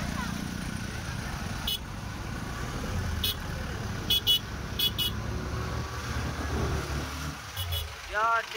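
Heavy road traffic jammed with cars and vehicles heading to a large Maratha rally at Narayangad, with a constant engine rumble and several short horn toots scattered throughout.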